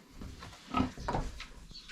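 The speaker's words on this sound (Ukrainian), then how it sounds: "Це наші льохи, понаїдалися" A few low, snuffling grunts from sows close by on a pig farm, irregular and short, with quieter rustling between them.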